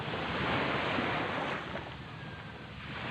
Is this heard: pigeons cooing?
no